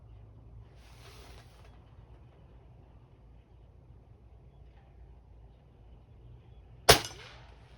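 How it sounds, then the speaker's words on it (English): A 19-year-old Crosman 800X springer air rifle fires a pellet that ricochets: after quiet room tone a single sharp crack rings out near the end with a short decaying tail, preceded by a faint brief rustle. "Heard a little ricochet."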